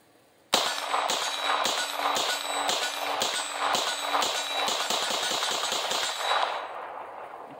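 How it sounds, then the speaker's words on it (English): A 9mm firearm fired without a suppressor in a rapid string of about ten loud, sharp shots over six seconds, close by, with a dense ringing wash that hangs between shots and fades after the last one. "I'm going to show you guys first what it sounds like without a suppressor"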